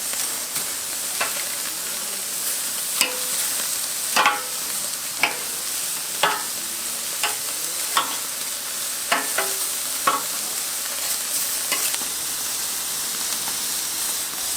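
Marinated flank steak sears in a pan over very high heat, a steady loud sizzle and hiss running throughout with sharp crackles and spits popping every second or so, no voices.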